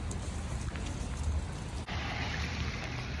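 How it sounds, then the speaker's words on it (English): Heavy rain pours outdoors near a shopping store, a steady dense broadband hiss that holds at an even level throughout, with a brief dip partway and no talking. "It's pouring."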